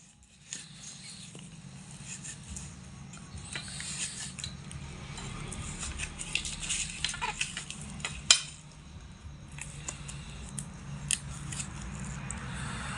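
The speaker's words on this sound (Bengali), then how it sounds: "এবার আমি নারকেলের ভেতর থেকে শাঁসগুলোকে দা দিয়ে কেটে কেটে প্রথমে তুলে নেব" A dao cuts and pries coconut flesh out of the shell. Close, repeated scraping and cutting strokes come at an irregular pace, with one sharper crack partway through and no voices.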